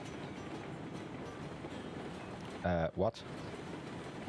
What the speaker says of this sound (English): I couldn't hear you because of the locomotive.